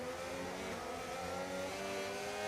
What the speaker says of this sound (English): I'm pushing hard to try and catch Gasly.